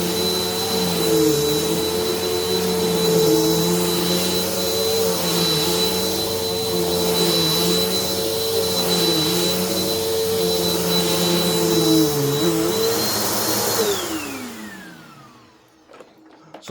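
A Bissell PowerForce 1739 bagged upright vacuum cleaner running steadily with a loud, close motor whine and airy roar, then switching off and winding down at the end.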